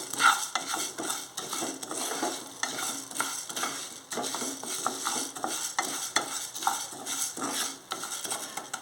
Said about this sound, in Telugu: ఇదే దీంట్లో ధనియాలు లైట్గా రోస్ట్ చేద్దామండి